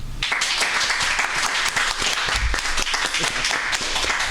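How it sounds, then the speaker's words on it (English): A studio audience claps during a game-show style vote, a dense, steady burst of applause lasting the whole few seconds with no clear talk over it. "Please clap if it was Mr. Preston."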